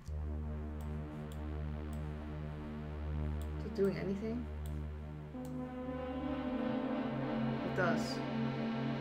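Sustained synth chords bathed in reverb, with layered tones and a long decaying tail, playing steadily under short bits of talking and shifting to a brighter, denser layer partway through.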